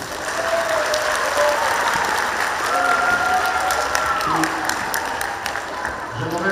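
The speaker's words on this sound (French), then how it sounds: "J'aimerais que vous applaudissiez s'il vous plaît." A festival panel audience gives a steady round of clapping that holds at an even level. Faint voices and murmurs run underneath, and a short spoken phrase is heard near the end.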